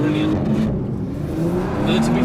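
A 2020 Porsche Macan Turbo facelift with a twin-turbo V6, its engine and exhaust giving a deep, steady drone that rises and falls in pitch as it accelerates, loud and close, with a voice talking over it.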